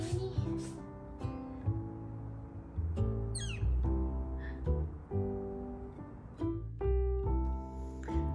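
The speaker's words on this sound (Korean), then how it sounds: "새소리." Birds call with quick chirps and short trills over a background of sustained tones.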